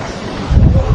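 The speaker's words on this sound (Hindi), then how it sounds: "तेज़ हवा चल रही है" Strong wind gusting outdoors in the mountains of Gilgit, a rough low rumble buffeting the microphone that swells louder halfway through and stays steady, with no voices.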